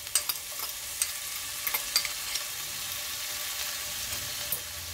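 Shallots and garlic cooking in a pan, heard as a steady, soft, close sizzle with faint occasional ticks and pops of stirring, no talking.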